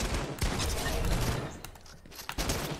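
Continuous dense gunfire from an LMG in the video game Fortnite keeps up a heavy, loud barrage of overlapping shots that dips briefly before resuming, with no speech.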